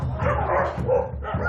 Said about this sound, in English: Brian, a dog cafe owner, whose dog Sasa is terrorizing his business